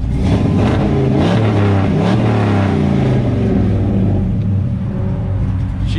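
A cold car engine growls as it is revved, a loud, close, deep rumble rising and falling in pitch through a few throttle blips, with no voices.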